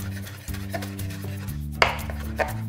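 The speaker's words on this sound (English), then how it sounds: "And then I'm just going to cut a tiny bit of cilantro." Fresh cilantro cut with a knife on a board, a few quick, close chopping taps over a steady low hum, no talking.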